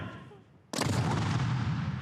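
A single cannon blast at Fort Clinch, a sudden loud boom after a quiet moment, followed by a long rumbling roar that fills the rest of the moment.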